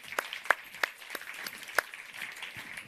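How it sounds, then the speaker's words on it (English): Scattered audience applause at a business conference panel: a handful of sparse, uneven claps in a thin, quiet spread of hands, brief and light rather than a full ovation. "Grab a round of applause, please."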